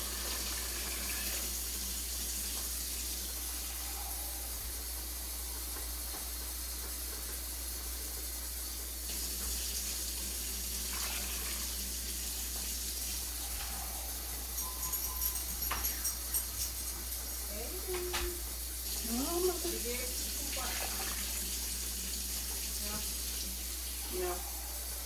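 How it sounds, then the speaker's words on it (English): Ten cups of water pour steadily into a pot for beef barley stew, a continuous faint rushing stream in a kitchen. "Now we're gonna add 10 cups of water."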